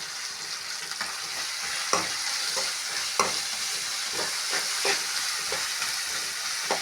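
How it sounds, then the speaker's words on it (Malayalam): Onions and green chilies frying with salt in a pan for chicken roast, a steady close sizzle with regular spatula scrapes and taps recurring every second or so. "ഒന്ന് നന്നായിട്ട് ഫ്രൈ ആവട്ടെ."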